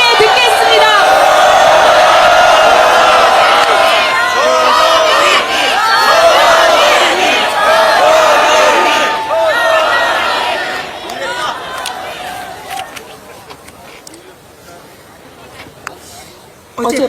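Crowd cheering, whooping and clapping at a candlelit impeachment rally outside the National Assembly, loud and sustained from a large gathering for about twelve seconds before fading away.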